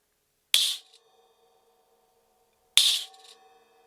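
Two short, sharp metallic crashes from a Crasher hand percussion cymbal with a brief jangling rattle, spaced a couple of seconds apart, each dying away quickly into silence.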